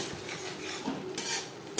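Spices such as roasted cumin, coriander and turmeric are stirred in a pan for a rohu-style fish curry, giving soft scraping and clinking of a spoon against metal, with a few louder scrapes near the end.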